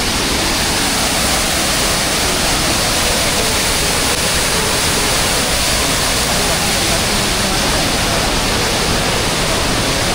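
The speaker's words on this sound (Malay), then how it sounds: "So ni sungai. Kat sana tu turun waterfall lah kan." The Tawai waterfall and the river below it on a hiking trail roar as a loud, steady, unbroken hiss of falling water that fills the whole stretch.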